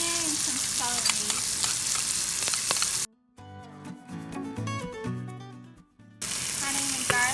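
Onion, garlic and celery frying with curry and saffron powder in oil, a dense close sizzle with spatter pops and stirring, cut off in the middle by a few seconds of tonal music before the sizzle resumes.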